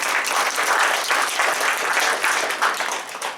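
Loud, sustained applause from a seated audience welcoming a speaker at a talk, many hands clapping close and continuous throughout with no voices over it.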